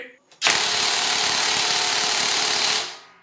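Gizam 2800 Nm cordless impact wrench on speed 3 loosening a fastener, one loud continuous whirring burst of about two and a half seconds with a sharp start and a fading tail.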